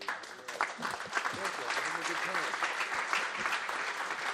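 Applause for the chairman at a Cyprus shipping forum, crowd clapping building up and continuing under voices and cheering, heard at a moderate distance and fairly faint overall.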